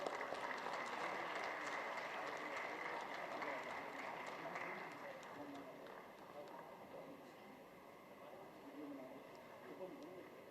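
Conference hall audience at a banking, finance and retail AI session applauds steadily throughout, a continuous wash of clapping over a busy room background, slowly easing in level.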